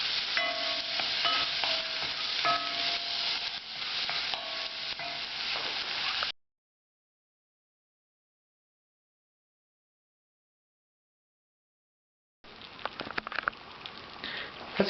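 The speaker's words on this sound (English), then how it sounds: "give that a good stir in, and we'll let that cook out for a couple of minutes or so" Tomato puree for chilli con carne sizzles and bubbles in a pan while being stirred, a close, steady frying hiss that cuts to silence midway and then resumes with sharper scrapes.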